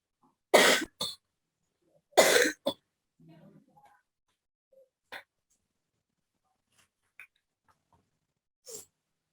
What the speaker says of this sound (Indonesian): Maaf, agak batuk.